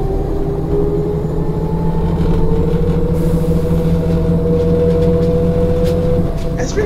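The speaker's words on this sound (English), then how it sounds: "Going down to St. James, the bus rattles aloud." A bus rattles along a road toward St. James in Barbados, its engine droning loud and close with a constant rumble and rattle throughout, a faint high whine appearing near the end.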